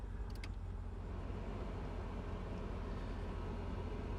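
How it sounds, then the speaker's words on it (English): Air conditioning in a 1968 Chevrolet Impala SS blows cold, a steady, even rush of fan air that fills the cabin without pause. "It is blowing and is blowing cold."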